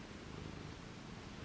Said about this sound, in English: If you can hear, she's purring so loud.